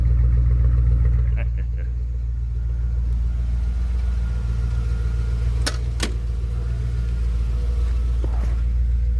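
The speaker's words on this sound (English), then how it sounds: "picking up the exhaust note really well." Mercury Cougar engine idling steadily with a deep, rumbling exhaust note, loud and close throughout, broken by a few brief sharp clicks or knocks.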